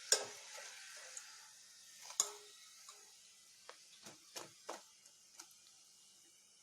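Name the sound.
sweet samosa frying in oil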